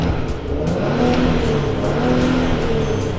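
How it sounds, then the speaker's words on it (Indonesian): Maserati Levante engine in sport mode, a louder, throatier continuous rumble with steady low harmonics and faint revving swells, heard alone at close range. "Kalau pencet mode sport, suaranya langsung berubah."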